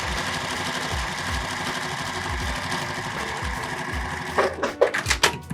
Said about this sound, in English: now we'll take our B2 piece and sew that on like that